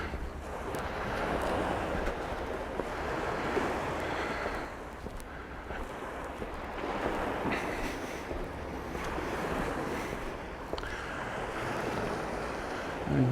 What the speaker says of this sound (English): you can see what I mean by a few waves